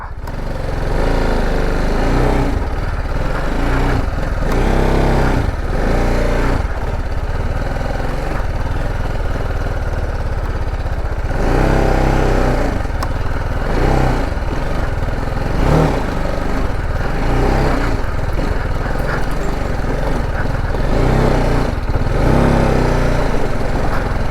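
Sports motorcycle ridden off-road along a rough trail, its engine revving and surging in uneven bursts, close and loud, with no speech over it.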